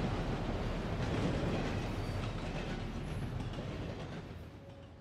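A train in the video game Red Dead Redemption 2 rolls along with a continuous heavy rumble and rattling wheels, loud at first and gradually fading as it moves away, with no talk.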